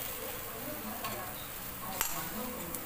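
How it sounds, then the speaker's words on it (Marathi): Cluster beans tipped into a hot oiled wok, a soft continuous sizzle with a few clinks of utensils and one sharp metallic knock, heard close under a voice. "असं गरम कढईत टाकायची"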